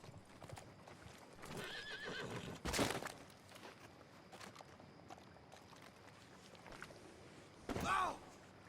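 Hooves clip-clop at a steady walk alongside whinnying and neighing from horses in the Red Dead Redemption 2 video game, with two louder bursts standing out over a background of low ambient noise.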